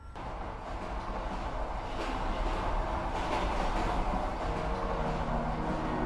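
Inside a moving train, a steady rolling rumble builds and holds with rhythmic rail clatter and rattling carriage noise, close and continuous with no talk.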